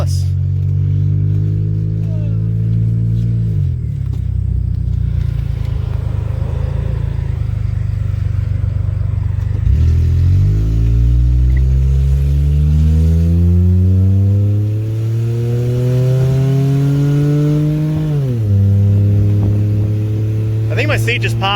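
An old vehicle's engine climbs slowly through its revs in a junkyard, its pitch rising steadily, dropping at each of several gear shifts and then climbing again, loud and close throughout.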